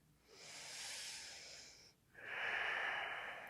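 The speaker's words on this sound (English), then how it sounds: "Let's take another deep breath here." One deep breath during a yoga practice, a long airy inhale followed by a short pause and a longer exhale, quiet and close with no talking.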